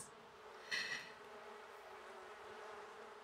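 Bees buzz around a full beehive in The Sims, a faint, steady, thin hum with a brief louder swell near the start and no talking.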